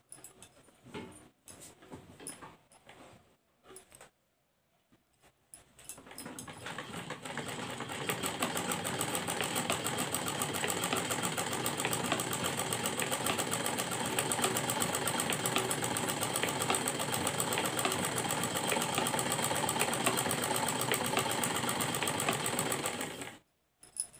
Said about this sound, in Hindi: उस पर इस तरह से रखेंगे और एक सिलाई से इसे अटैच करते हुए जाएंगे।